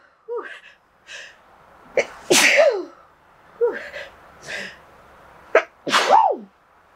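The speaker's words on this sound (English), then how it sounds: "Ooh, I gotta sneeze" A person sneezes several times in a row, with sharp explosive bursts separated by short gasping inhales, close to the microphone in a quiet room.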